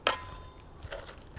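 A utensil stirring chickpea salad with feta in a bowl, a short clink followed by soft scraping, quiet and close.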